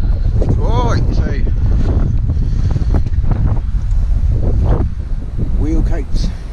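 Loud, blustery wind buffeting the microphone on the Cornish coast at Chapel Porth, a constant low roar throughout with a voice speaking through it at times.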